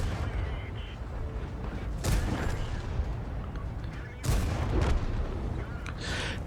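Tank cannon shots in the online tank battle game World of Tanks, played in an AMX 13 90 light tank: two heavy booming blasts a couple of seconds apart over a constant rumbling battlefield background.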